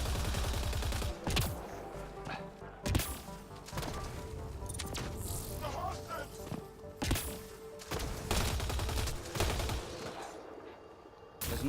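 Rapid gunfire fills a firefight in Mass Effect Andromeda, with repeated sharp shots and thuds scattered across the scene, while a voice talks over the shooting.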